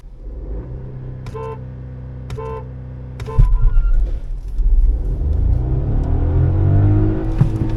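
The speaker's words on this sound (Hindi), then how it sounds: "मैं बजाऊं हॉर्न?" Three short car horn toots in a row, then an engine roars and revs up loudly, accelerating away, during a drag race between a Honda City diesel and a Volkswagen Virtus 1.0.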